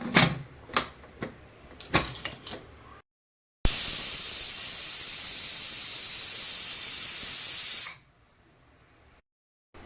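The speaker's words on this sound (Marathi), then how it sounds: "कुकरच्या तीन ते चार शिट्ट्या झालेल्या आहे" After some metallic clinks, a pressure cooker cooking sweet potatoes lets out a loud, steady high-pitched hiss of steam lasting about four seconds, then cuts off abruptly.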